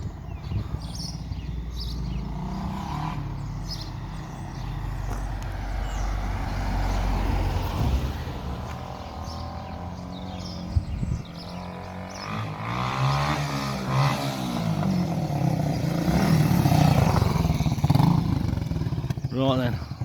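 A 1978 Honda XL250 barn-find motorcycle runs nearby, its engine note rising and falling as it is ridden and wheelied. People talk over it.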